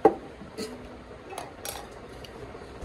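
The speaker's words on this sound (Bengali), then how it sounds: "এই কড়াই টড়াই বাটি ঘটি রাইস কুকারের ডিশ টিশ সব পরিষ্কার করতে হবে" Dishes being washed: a wok, bowls and a rice cooker pot clink and clatter in sparse, close knocks against a quiet background, with a few sharp metallic taps spread out over a few seconds.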